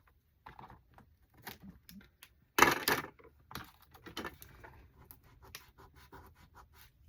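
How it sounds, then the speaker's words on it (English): Adhesive tape is pressed down to secure a craft page, heard as quiet scattered rustles and taps with one louder ripping burst in the middle, close and alone. "Then we need a little bit of tape under here to secure the end."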